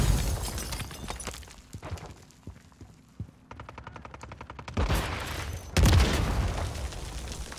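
Semtex grenade going off in Call of Duty: Modern Warfare III multiplayer, a heavy booming blast late in a stretch of rapid gunfire, crackling impacts and shattering debris, with no voices.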